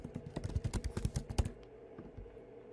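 Fast typing on a computer keyboard while entering information into a legal matter management program, a quick run of close, crisp key clicks for about a second and a half, then a low, quiet background.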